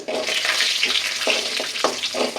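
Urad dal and chana dal frying in hot oil with popped mustard seeds and cumin, a steady close sizzle with crackling bursts and a few stirring scrapes, no voices.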